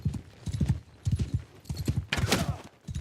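A horse in a Nord barbarian video game gallops, with rhythmic clip-clop hoofbeats in repeated bursts, close and clear, and a brief whinny near the end.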